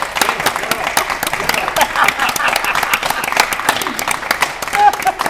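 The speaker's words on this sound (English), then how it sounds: "Round of applause." A game show studio audience applauds the day's winner with a dense, steady burst of clapping that fills the whole stretch, close and fairly loud.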